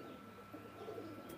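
Pakistani Teddy pigeons, new adults of a Pakistani bloodline, coo softly and continuously at close range, low murmuring calls with a faint chirp near the end.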